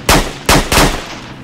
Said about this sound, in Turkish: Ötekine sıkıyorum.